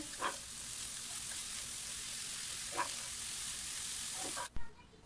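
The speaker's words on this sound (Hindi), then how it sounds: "इसको हाई फ्लेम पे हम इसको कुक कर लेंगे" Chicken and vegetable spring roll filling fries over a high flame, giving a steady bright sizzle with a few soft stirring scrapes, cut off abruptly near the end.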